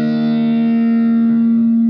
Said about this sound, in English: My ukulele was DI'd through a distortion pedal